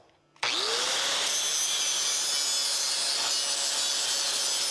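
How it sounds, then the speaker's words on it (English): Grinding a weld bevel on the edge of steel angle during a wetline and PTO install on a Ford LTL9000 truck: a tool spins up abruptly and then holds a loud, steady, harsh abrasive whine, close by, with no talk. "So I just beveled that, and I'm gonna bevel this angle so that we can get a little better weld down in there"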